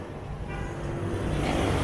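Busy city street traffic in Cebu City after a jeepney bumped a taxi: a steady, fairly faint wash of passing cars and engine rumble with no voices.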